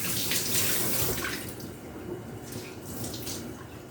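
Water splashes and trickles as a cleaning cloth is rinsed and squeezed out in a basin of hot Woolite water while cleaning an old couch, close and wet, with surges that ease off and drip.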